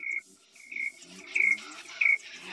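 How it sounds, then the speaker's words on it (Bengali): Birds call around a home in the morning with four short, high chirps spaced about half a second apart, faint against a quiet background. "সত্যি কথা বলতে আমার না খুব ভালো লাগে গো এভাবে পাখির ডাক শুনতে।"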